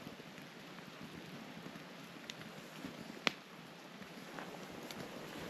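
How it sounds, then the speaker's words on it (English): Steady rain falls around a tent at a Yellowstone campsite during a storm, a faint, even hiss with scattered louder drips and one sharp tap standing out. "It's raining pretty good right back there."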